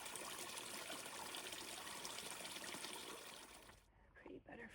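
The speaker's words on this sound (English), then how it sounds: "A nice little waterfall." A small waterfall trickles beside the Appalachian Trail in New Hampshire woods, a soft continuous splashing wash heard close by that drops away abruptly near the end.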